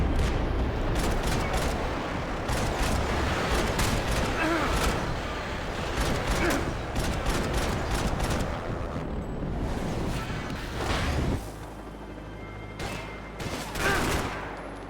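Video-game gunfire in Max Payne 3 comes as loud, dense bursts of rapid shots with short pauses between them, then eases off near the end while a low engine-like drone carries on underneath.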